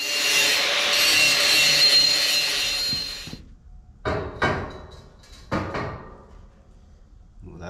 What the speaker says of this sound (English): We'll have to hit that with the grinder.